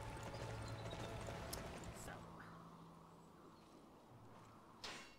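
Horse hooves clip-clop faintly in Dynasty Warriors 9, a soft, rhythmic trot set low beneath steady game music and a murmur of background voices, fading slightly toward a brief louder hit at the end.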